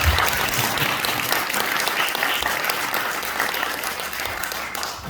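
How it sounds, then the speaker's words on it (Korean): Steady applause from an audience at a university forum, dense clapping that stays loud and even for about five seconds before easing slightly at the end. "그런 말씀 박수 한번 쳐요"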